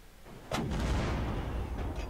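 A sudden deep boom bursts in and rolls on as a sustained rumbling blast, loud and heavy, like game explosions in an Unturned WW2 mod, with no talking.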